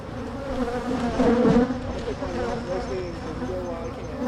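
A drone bee buzzes loudly and close by, a continuous droning hum that swells in the middle and then holds steady.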